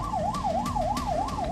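An ambulance siren wails in a rapid, regular up-and-down cycle at the scene of the Moscow concert hall attack, loud and continuous with traffic rumble beneath and no talking.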